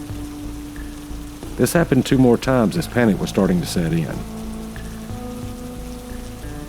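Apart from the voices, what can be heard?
drizzling rain in a swamp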